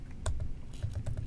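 Someone types an OpenSSL command on a macOS computer keyboard, a short quick run of soft, close key clicks with no talking.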